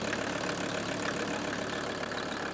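An old Mercedes 300D diesel idles high and steady, a dense, rough clatter close by with a constant knocking texture and no voices.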